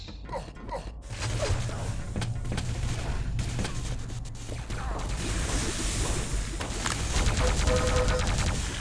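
Quake 3 Arena gameplay with plasma gun and other gunfire, dense rapid shots and mechanical clatter forming a loud, continuous barrage with a low hum underneath.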